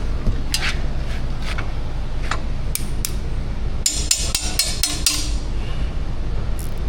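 A ratchet wrench with a broken tooth slips during work on a Jeep Wrangler 3.6, giving sparse metallic clicks and then a quick cluster of sharp snaps over steady background noise.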